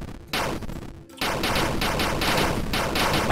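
Explosions sound continuously in an 8-bit MMO game made in C++, a dense, noisy crackle of repeated bursts that swells and pulses steadily for a few seconds with no voices.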